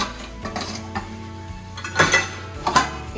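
Dirty pots, plates and cutlery are loaded into a Bosch dishwasher, making a few loud, close clinks and clatters at irregular intervals over a quiet background.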